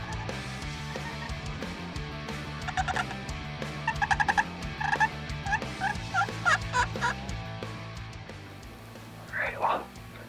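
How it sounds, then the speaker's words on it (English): Wild turkeys gobble from a distance in front of a hunting blind at dawn, several rattling bursts in loose succession, with hushed whispering and faint background music. "It's turkeys."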